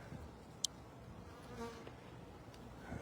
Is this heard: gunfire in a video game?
no